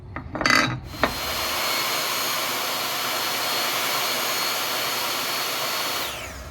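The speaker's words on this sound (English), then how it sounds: "I'm cutting the pieces down to size to be glued together" Power saw cutting leopardwood and cherry pieces for a knife handle, a few knocks and clatter first, then a steady loud whining roar that runs close and ends near the finish.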